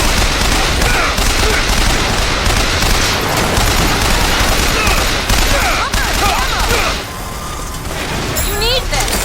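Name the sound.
turret gunfire in the video game BioShock Infinite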